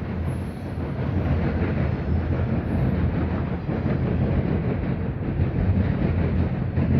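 A CSX C518 freight train rolls past Marion Union Station in Marion, Ohio, a loud, steady rumble of wheels and rail clatter filling the whole stretch without talk.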